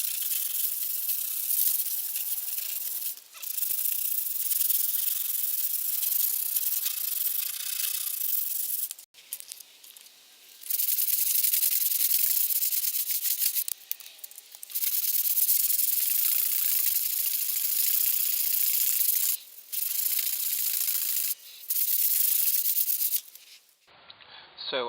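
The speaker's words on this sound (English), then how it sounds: "So after about 20 minutes of sanding this area" Sanding of body filler on a car's side panel during rust repair rasps loudly and close in long rhythmic strokes, broken by brief pauses between passes.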